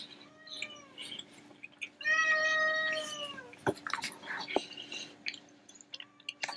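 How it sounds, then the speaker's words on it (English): A pet cat meows insistently for grilled chicken in a kitchen, several drawn-out rising cries with one long loud caterwaul in the middle, mixed with faint chewing and soft whispery sounds. "My cat's going crazy."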